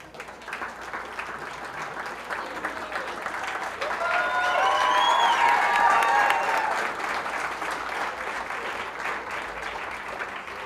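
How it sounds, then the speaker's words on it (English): Audience applause at a junior fair sheep show, a steady wash of clapping that swells to a louder peak midway and then eases off, with faint background voices through it. "Let's give him a good round of applause"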